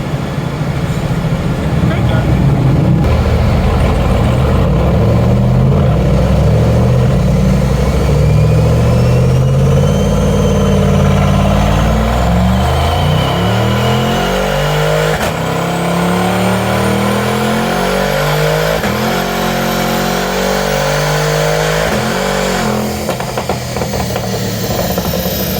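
A Chevy C8 Corvette with a twin turbo engine revs steadily on a dyno, a loud continuous roar with rising and falling pitch sweeps that fills the whole stretch, with some talk mixed in underneath.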